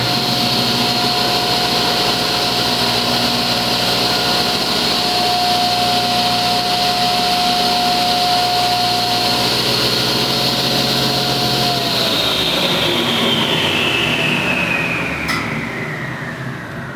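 A 1987 Delta Unisaw table saw motor runs with a loud, steady hum and whine for several seconds, then switches off and winds down with a falling pitch as it spins to a stop.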